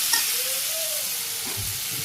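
Papaya pieces with dry chili powder sizzling in a hot pan while being stirred, a steady frying hiss with scraping stir strokes near the end.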